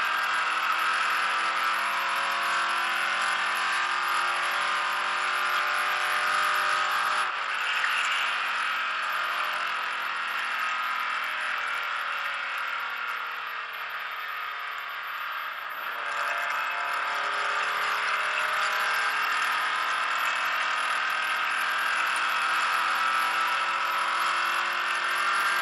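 A car at the Petty Driving School track in Texas accelerates with a steady, loud engine drone and rattling cabin noise that dips briefly in the middle before it builds back.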